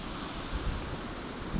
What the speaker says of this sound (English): I do apologise for any wind on this video, folks. There is a bit blowing around here.